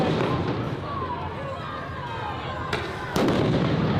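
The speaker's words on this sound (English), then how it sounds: "They're already deploying flashbangs." Police flashbangs going off during a street confrontation with the LAPD beside a highway: sharp bangs cut through dense crowd noise and constant rumble, with a loud burst near the end and talking underneath.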